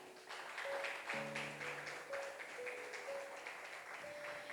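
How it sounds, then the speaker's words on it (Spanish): Applause from a church congregation during a service led by a pastor, a dense steady wash of many hands clapping with a few sustained tones, likely from instruments, running beneath. "Denle un fuerte aplauso al Señor."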